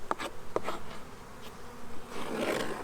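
Honeybees buzzing around an opened beehive during cleaning of the inner cover, a close, fluctuating drone with individual bees zipping past the microphone, no voices.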